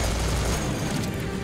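A minigun fires in the video game Serious Sam 4, a dense unbroken roar of rapid gunfire that stays loud and continuous throughout, with no talking.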